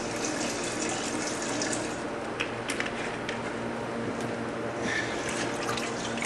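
An alcohol and gasoline mixture sloshes and swirls in a container with a continuous, faint watery churning and light splashing, close up.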